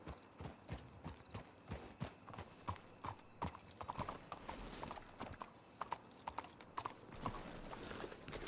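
In Red Dead Redemption 2, steady clip-clop of horse hooves trotting at a moderate pace, with an occasional faint whinny, no talking.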